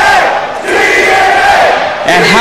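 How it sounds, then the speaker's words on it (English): A wrestling crowd at a TNA/UWF show at a college in Danville, Virginia, chants loudly and rhythmically in unison, a dense roar of many voices that swells and dips across the arena. "The TNA chant goes out at Everett College on Danville."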